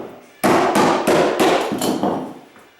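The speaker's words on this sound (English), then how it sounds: "but no, that's a hammer." A hammer nailing down carpet tack strip along a floor edge, six sharp, close, loud strikes in a steady rhythm, each ringing briefly before the next, with no talk.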